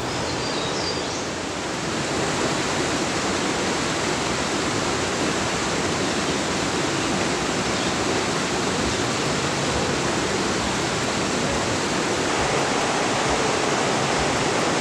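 The current of the Zacate River near La Merced del Potrero in Oaxaca rushes in a steady, full, broadband roar that stays close and unbroken throughout.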